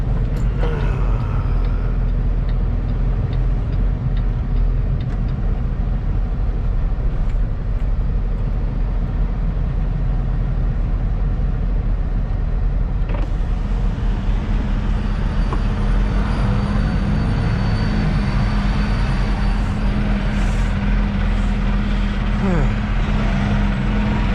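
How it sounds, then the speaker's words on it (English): A truck slowly backing into a parking lot, its engine rumbling loud and close throughout, with a sharp hiss of air brakes partway through and a voice talking over it. "I'm gonna lose all my minutes just waiting for a truck to get into the parking lot."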